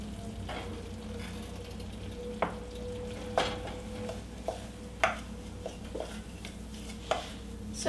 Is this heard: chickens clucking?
no